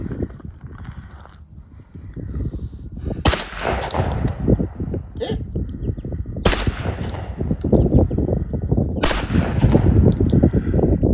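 A Remington Sportsman 16-gauge long-recoil shotgun loaded with mild RST shells fires three loud, sharp shots about three seconds apart outdoors, each blast trailing into a rumbling echo between shots.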